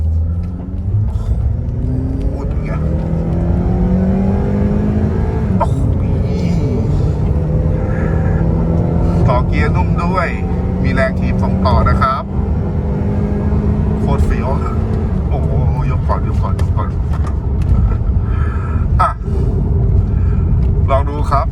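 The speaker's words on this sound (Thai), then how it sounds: "เดี๋ยวเรามาดูอัตราเร่งกันว่าเป็นยังไงนะครับ" A Honda Accord Gen 8 with the 2.4 engine, tuned and on 18-inch wheels, accelerates steadily from the cabin, with engine rumble and rising harmonic sweeps through the gears, under continuous talk.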